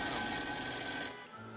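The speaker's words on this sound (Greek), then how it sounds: "Μπορεί κάποιος να σηκώσει το τηλέφωνο γιατί ξυρίζομαι." A telephone bell rings with a dense, buzzing jangle that cuts off about two-thirds of the way through, faint and somewhat muffled, with no speech.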